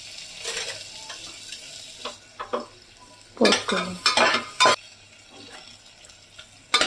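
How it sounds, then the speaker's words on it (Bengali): Small onions frying and being stirred in a pan for chicken stew, with bursts of scraping and clinking of a utensil against the pan over a low sizzle, loudest near the middle. "তারপর দিয়ে দিচ্ছি পেঁয়াজগুলো, একটা ছোট্ট পেঁয়াজ"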